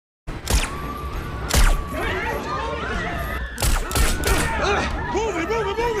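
Gunfire exchanged between escaping prisoners and prison guards in a film scene, with several sharp shot bursts rising over a steady loud background of voices and action noise.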